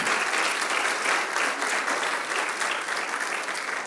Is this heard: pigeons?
no